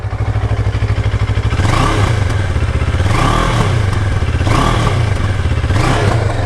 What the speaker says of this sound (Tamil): இதான் வந்து என்ஜினோட நாய்ஸ்